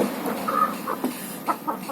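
A few short clucks from a white, black-legged hen, close and moderately loud, scattered over a couple of seconds with quiet gaps between.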